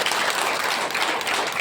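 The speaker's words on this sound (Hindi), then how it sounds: "एक बार जोरदार ताली" Applause from a seated audience at a business plan presentation, steady dense clapping filling the whole moment without pause.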